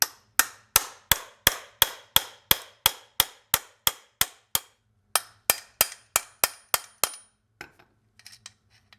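A hammer drives a grade 8 bolt to knock gears off a Ford distributor shaft, landing about twenty sharp, evenly spaced metallic blows with one brief pause, then a few lighter clinks and taps of handling.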